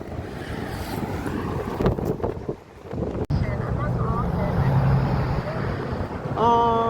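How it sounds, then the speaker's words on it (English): Strong wind blows outdoors, a steady loud rush buffeting the microphone throughout, with brief dips and a muffled voice speaking beneath it. "it's getting parched all this goddamn wind out here"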